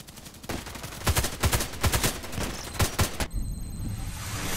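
Repeated HK417 sniper rifle shots in a video game, a cluster of loud sharp cracks at irregular intervals over a steady background, with no talk.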